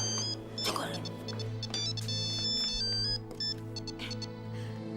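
A mobile phone plays a bright melodic ringtone, loud and close, looping for the whole stretch over a steady low hum, with faint talk in the background.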